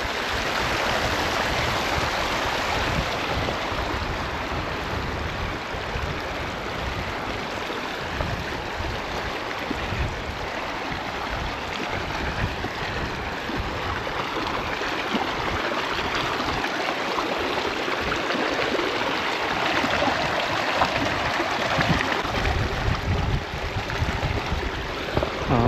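A river stream in Aru Valley near Pahalgam, Kashmir, rushes in a steady, loud broadband wash that holds for the whole stretch with no break, close to the listener and with no voices over it.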